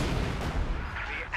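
Battle noise from the Company of Heroes 2 strategy game, with a Panzer gun under fire from sappers. A dense, continuous rumble of gunfire and low booms fills the short span.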